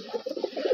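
Pigeons kept for sale, a brief close, low cooing murmur running continuously, no talk.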